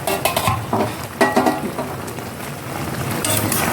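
A mango candy mixture bubbling and cooking in a pan, a steady close sizzle with stirring scrapes and light clinks running throughout, and no talking.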